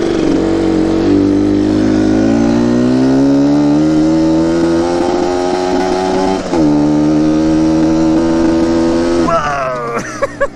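A Yamaha Banshee ATV engine roars at full throttle, a loud, steady two-stroke wail that holds and climbs for about ten seconds before breaking off into sputters near the end.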